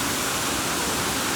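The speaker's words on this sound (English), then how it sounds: "The water's still running, and you can see all of the ice that's gathered up right there" Water still running beneath ice at a frozen waterfall hung with giant icicles in a winter national park valley, a steady broadband rush throughout, close and unbroken with no voices.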